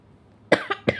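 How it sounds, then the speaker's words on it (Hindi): Three quick coughs burst out close to the microphone in rapid succession after a brief quiet moment. "आप लोगों के चक्कर में मुझे खांसी आ गई"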